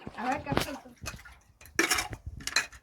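Steel pots and utensils clank and clatter in bursts during outdoor cooking at a farm, loud and close, with people talking between the knocks.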